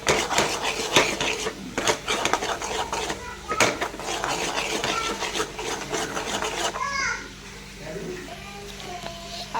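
Masala for kat vada being roasted in oil in a pan, with a spatula repeatedly scraping and clinking against the metal in close, uneven strokes while someone talks quietly over it.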